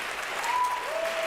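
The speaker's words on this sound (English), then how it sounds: "I'll wait for the applause." Applause from an audience at a political speech, a brief steady wash of clapping that fills the moment alone.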